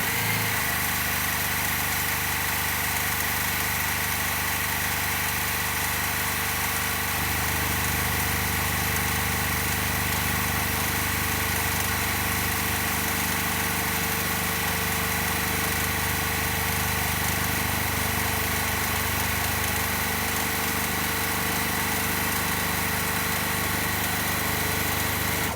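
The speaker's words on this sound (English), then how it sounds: "I'm going to sew down the whole strip." A sewing machine stitches quilt fabric strips in one long continuous run, a steady close mechanical hum that does not pause.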